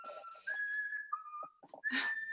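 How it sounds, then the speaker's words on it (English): Someone whistles a simple tune of sustained, sliding notes in a quiet room, with a few brief pauses and a brighter closing phrase. "He begins to whistle."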